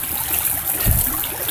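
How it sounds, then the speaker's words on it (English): Creek water rushes steadily through a Bazooka Gold Trap sluice on an Ohio creek while gold prospecting, a continuous close broadband gush with a brief stronger surge midway. "Water flow is just chewing right through."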